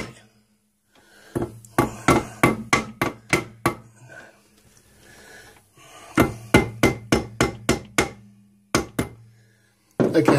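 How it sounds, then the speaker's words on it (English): Hammering to join the crankcases of an MZ ETZ 250 motorcycle in a workshop: close, sharp metallic blows in quick rhythmic bursts separated by short pauses, each run of strikes fading slightly, with faint talk in the gaps. "Right, then you just finish it off with a hammer."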